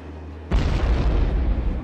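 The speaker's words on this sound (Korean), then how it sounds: "폭발 사고가 일어났는데" A sudden loud blast goes off aboard high-speed train 904 running from Naples to Milan, after a quiet moment; a dense rumbling roar follows and sustains close by.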